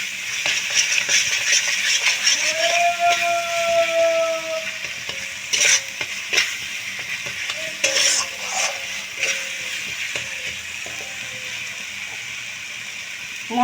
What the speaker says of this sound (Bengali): খুব ভালো করে আমি মশলাটা কষিয়ে নেব।